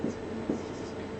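Pen writing numbers on paper while working a statistics mean problem, a soft close scratching stroke with a brief louder scrape in the middle.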